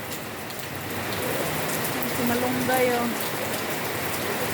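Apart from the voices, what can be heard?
heavy rain during typhoon Kristine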